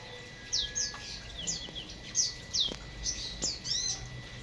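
Small birds chirp in a morning aviary at feeding time, with a series of bright, quick calls repeating every half second or so, moderately close and alone, over a soft outdoor background.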